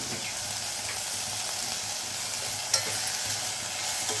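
Mushroom masala fries gently over a low flame, giving an even soft sizzle with light stirring scrapes and one small click, close and continuous without speech.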